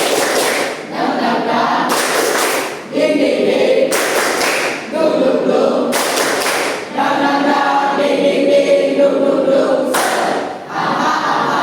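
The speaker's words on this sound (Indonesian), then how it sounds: "Tepuk semangat." A classroom of students does a rhythmic spirit clap, loud dense bursts of clapping in repeated patterned rounds with brief pauses between, close and energetic with crowd noise mixed in.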